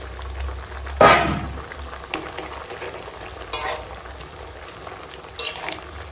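Young spinach and pre-fried singi fish drop into a simmering curry broth, a sharp splash-and-sizzle burst near the start, then steady low frying and bubbling with occasional soft clatters.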